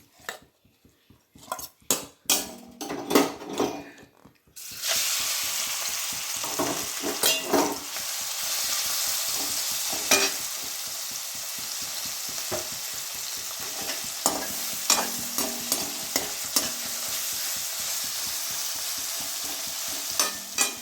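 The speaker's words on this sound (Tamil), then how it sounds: "எண்ணெய் ஊற்றி நம்ம ஃபஸ்ட்டு இந்த ஃபிஷ்ஷை மசில்ஸை நம்ம ரோஸ்ட் பண்ணி இது மட்டும் ரோஸ்ட் பண்ணி எடுத்துக்கலாம்." Mussels roast in hot oil in a kadai, opening with sharp clinks of a spoon against the pan, then a loud continuous sizzle broken by repeated stirring scrapes and metal taps.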